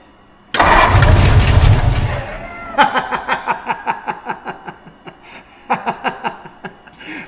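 An old 1952 Ford Crestline being revived starts with a loud rough burst, then settles into a series of rhythmic chugging pulses that pause briefly before resuming.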